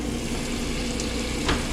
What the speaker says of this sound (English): Can you hear the washer going?